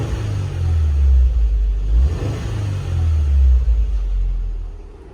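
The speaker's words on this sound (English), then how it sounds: "So now we're going to rev up the engine" A car engine revs twice in deep, rumbling surges during a workshop check of a rich fuel mixture, heard close and loud with no talking.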